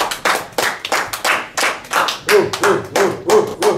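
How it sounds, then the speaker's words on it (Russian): An audience claps hands at an entertaining competition tournament, about a dozen sharp, fairly even claps in a steady rhythm, close and loud, with no talking. "Хлопайте тоже!"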